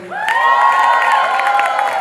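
Audience at a university African Student Association fashion show cheers and shouts for a performer, a loud close burst of whoops and high voices rising together and holding for about two seconds.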